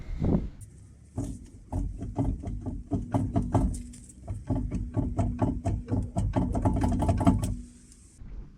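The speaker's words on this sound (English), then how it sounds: "Maybe you can see or hear there is a bit of play in the bearing" A worn wheel bearing with play on a Mercedes W201 fitted with an M111 supercharged engine and six-speed swap, giving a rapid, repetitive knocking and clattering rhythm up close, fading at the end.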